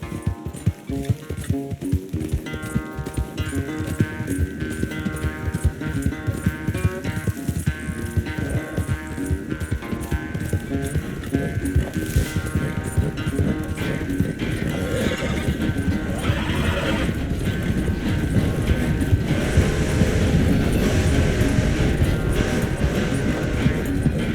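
A horse gallops in a race in Red Dead Redemption 2. Fast, dense hoofbeats drum steadily and close up for the whole stretch, under a continuous layer of game sound.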